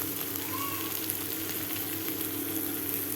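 Grated ginger and chopped green chilli hit hot oil with fried onion in a pan, a steady close sizzle with faint stirring scrapes.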